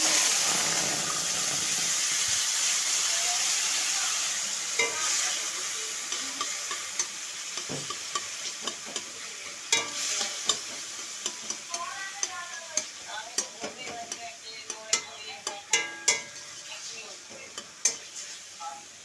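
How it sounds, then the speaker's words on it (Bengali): Mango chutney cooking in a pan after a panch phoron tempering, giving a steady sizzle and stirring noise in the first half that thins into scattered clicks and utensil taps toward the end. "তো দেখো পাঁচফোড়নটা ফোড়ন দিয়ে তো আমি আমের চাটনিটা করছি।"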